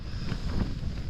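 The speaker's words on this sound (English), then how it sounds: "that's the wind picking up" Wind gusting across an exposed hilltop wild camp on the Long Mynd in the Shropshire Hills, a steady low roar with swelling buffets against the microphone, continuous and close.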